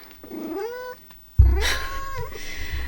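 A pet cat lets out two drawn-out meows close by, the second louder and more insistent, with a low thump between them.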